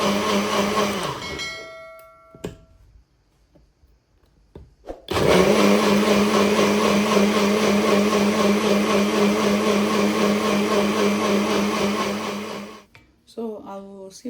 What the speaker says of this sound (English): Cover it up and blend it.